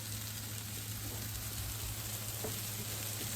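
Cheese arepas frying in butter in a pan, a steady, close sizzle with fine crackling that holds even and unbroken throughout.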